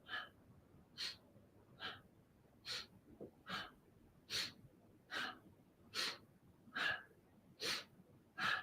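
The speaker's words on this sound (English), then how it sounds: "you can hear my breath" Rhythmic yoga breathing during alternating arm movements, with about ten sharp, airy breaths spaced evenly and heard close and alone.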